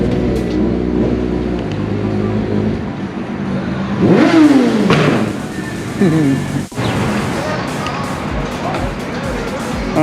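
A Suzuki GSX-R1000 motorcycle revs its exhaust during a city ride among a group of riders, with a loud rising and falling engine snarl under steady traffic and road noise and some talking nearby.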